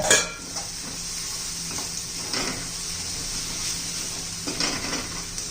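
Green chillies and coconut sauté in a pan for a Maharashtrian curd kadhi, with a steady close sizzle, a clatter at the start and occasional spatula scrapes and clinks against the pan. There is no speech.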